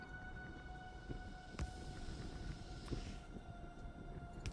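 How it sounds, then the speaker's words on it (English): A train rolls by in the Factorio video game. It gives a steady mechanical rumble with a held tonal whistle, and there are a few sharp clanks along the way. "And there's the train."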